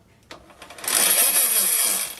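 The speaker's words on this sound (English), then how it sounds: "now I have the drill set up here, and when it's triggered," An electric drill rigged to a dirt bike's back wheel triggers after a couple of faint clicks and winds up into a loud, steady, high-pitched whirring spin that holds for over a second.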